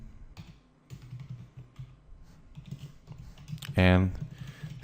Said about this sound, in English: here you can type first